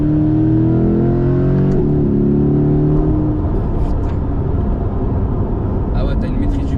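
A 500 hp sports car gives a loud, close engine drone that rises, then gives way to rough road and wind roar from inside the cabin. People talk over it.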